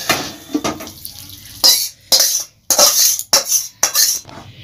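Metal spoon scraping and clinking against a pan in several distinct bursts as a bottle gourd and spinach curry with ghee is stirred, with short quiet gaps between the strokes.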